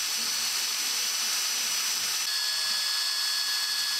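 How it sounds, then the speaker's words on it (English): A power drill spins a wooden dowel to polish brass accents for a necklace stand, giving a steady, high-pitched whir with a faint hiss that runs continuously, a pitch shift partway through, with no talking. "I chucked up the dowels into my drill, and I used that to polish up the brass"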